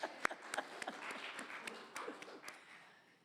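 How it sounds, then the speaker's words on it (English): At a church annual meeting, the audience gives a faint, distant round of applause, scattered claps and taps in a room that fades gradually over about three seconds. "Applaud yourselves, please."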